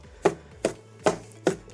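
Four crisp, evenly spaced knife chops through fresh green onions on a cutting board, close and clear with no talking, for a charcoal BBQ stuffed chicken filling.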